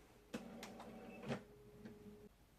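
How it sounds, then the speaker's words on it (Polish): A home printer running at low level, with a steady mechanical hum and several clacking paper-feed knocks spaced irregularly across the clip. "Wybaczcie, zapomniałam wyłączyć drukarkę."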